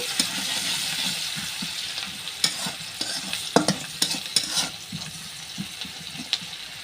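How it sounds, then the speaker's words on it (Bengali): Chopped onion dropped into hot oil left from frying hilsa fish, giving a close, continuous sizzle broken by sharp scraping clinks of a spatula stirring the pan. "এবার আমি সেই তেলের ভিতরে দিয়ে দেবো পেঁয়াজ কুচি"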